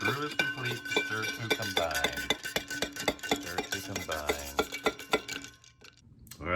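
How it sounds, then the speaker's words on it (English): A spoon stirring freshly brewed coffee from a Ninja Hot & Cold Brew System, giving a quick, regular run of bright clinks against the vessel that stops near the end. "When the brew is complete, stir to combine."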